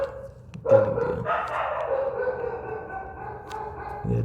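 Dogs barking somewhere outside during a lecture, several yelping barks and a drawn-out howl-like cry, moderately loud and mixed with faint room sound.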